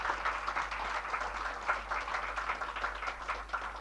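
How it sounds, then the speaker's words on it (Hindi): An indoor audience at a management institute event gives sustained, moderately quiet applause with a continuous ripple of clapping and a low hum beneath. "एक बार ज़ोरदार तालियां हमारे मास्टर ट्रेनर्स एवं इन छोटे बच्चों के लिए"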